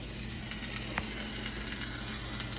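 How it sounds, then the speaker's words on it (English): A quiet, steady sizzle hisses from a steak in a hot pan, with a faint tap near the start and no voices. "You can hear it start to sizzle."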